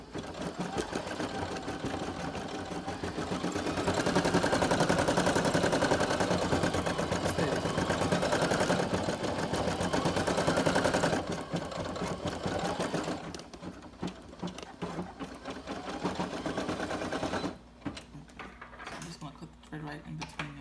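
A Brother PE 800 embroidery machine stitches eyes onto a tee with a rapid, steady mechanical chatter close by. Its pace and loudness shift partway through, and a person talks over it at times.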